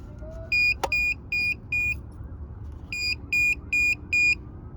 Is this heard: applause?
no